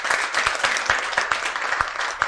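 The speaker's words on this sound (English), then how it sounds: "Round of applause to them." Steady audience applause at a roundtable event on new immigration actions, a dense, even patter of many hands clapping at close range that continues throughout.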